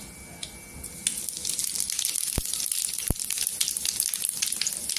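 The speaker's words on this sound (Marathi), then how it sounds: "छान असं जिरं तरतरलंय" Cumin seeds sizzle in hot oil for a mustard-seed tempering in a moong dal varan, a brief quiet start giving way to a steady, close crackling hiss with a few sharp pops.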